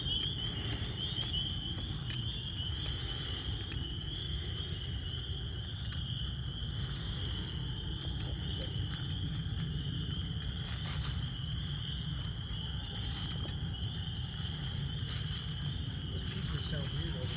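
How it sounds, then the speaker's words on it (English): A dense, steady chorus of high peeping calls with lower croaks underneath from frogs in spring in Ohio, continuous and outdoors, some distance away. "some of them are doing a little croaking, some are doing their peep"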